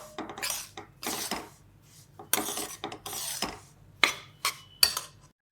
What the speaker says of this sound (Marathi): बारीक गॅसवरच आपण रवा भाजायचा आणि सतत हलवत राहायचं